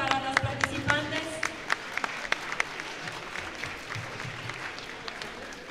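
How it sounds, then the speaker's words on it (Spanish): Audience applause for the participants at the closing ceremony of Tlaxcala 2015, with scattered claps over a dense background of crowd noise and talk. "Un fuerte aplauso, por favor, para las participantes."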